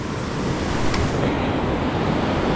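Large ocean waves surge and crash against the shore at high tide, a loud, continuous roar of surf with wind buffeting close by and no voices.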